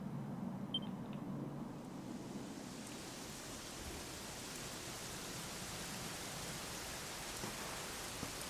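Steady rain in Dragon Quest XI hisses softly and evenly, a constant wash of falling drops with a faint low rumble early on.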